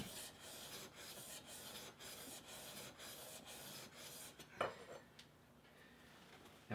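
A hand plane blade is drawn back and forth on a sharpening stone, producing faint, rhythmic gritty strokes, then a single clack and quieter handling.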